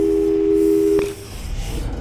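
A telephone busy tone in Portal 2 sounds as a steady electronic hum-like tone that breaks off after about a second, leaving a lower, rougher background drone.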